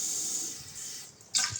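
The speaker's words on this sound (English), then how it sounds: "1 cup of mochi rice. Then I wash it." Mochi rice being washed in water, a steady running-water hiss that drops away briefly near the end before a louder splash of sloshing water returns.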